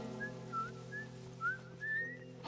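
Whistling in The Last of Us video game: a few short, clear whistled notes, then a longer rising one, over a steady low background hum.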